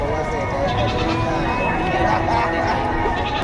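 Dappled Boer goat bleating at a livestock auction in Padre Garcia, Batangas, heard amid crowd chatter and an auctioneer's voice.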